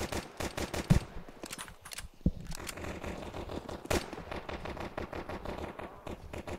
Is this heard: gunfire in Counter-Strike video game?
yes